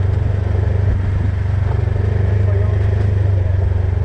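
Steady low engine rumble from a side-by-side engine braking downhill, a pulsing, throbbing drone, continuous and close with no clear talk.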